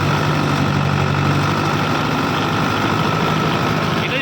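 A Powertrac Euro 60 tractor engine runs steadily at about 1600 RPM with both lift levers lowered, a loud, continuous low diesel drone with a constant hum and no pauses throughout.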